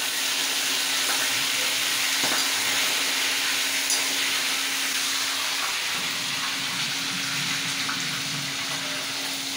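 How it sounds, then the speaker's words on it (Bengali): Fish heads frying in hot oil, a steady hissing sizzle with faint crackles and a low hum underneath, continuous and fairly close with no speech. "মাছের মাথাগুলো ভাজতে ভীষণ ভয় লাগছে, যে যদি ফাটে"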